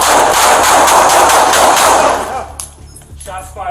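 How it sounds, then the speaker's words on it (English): Rapid bursts of gunfire erupt loudly and close during a tense police confrontation with an armed suspect, a dense volley that cuts off abruptly, followed by a brief quieter tail. "Shots fired. Shots fired."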